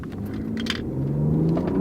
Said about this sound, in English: Now realize, this is just a 6-cylinder inline engine, but the Germans know how to make them.